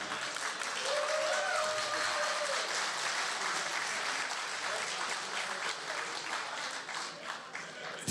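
A panel discussion audience at the YIVO Institute for Jewish Research applauds, a sustained, fairly distant and soft wash of clapping from the crowd that carries on for several seconds.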